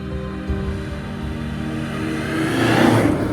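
An unrestored Alfa Romeo GT 1300 Junior engine hums at a steady pitch, then builds in volume as the car accelerates toward the end.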